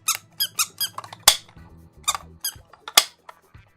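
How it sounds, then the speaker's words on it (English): A squeaky prank toy disguised as a real camera gives a rapid series of short, sharp rubbery squeaks in bursts, close and clear with silence between them. "Oh, it squeaks."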